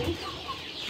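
Ayam kampung sentul village chickens cluck at feeding time, giving a short burst of soft, close clucking over a faint farmyard background.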